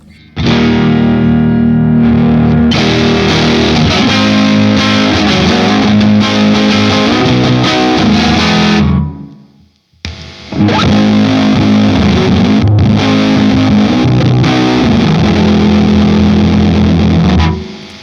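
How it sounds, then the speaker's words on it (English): Distorted electric guitar chords ring out loud and sustained, a short pause near the middle, then another driven, gritty strummed phrase. "Just as a pure overdrive, it's even pretty."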